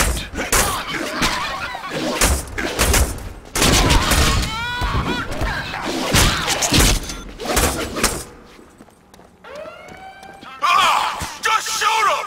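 Heavy gunfire in the Deadpool video game: dense bursts and rapid shots, thuds and shouting voices, then a brief lull before another loud burst near the end.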